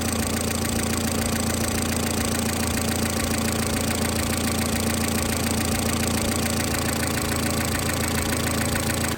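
A modified Vauxhall Corsa engine idles while warming up to temperature, a steady close-up drone with a faint rhythmic knock running unbroken throughout, no voices.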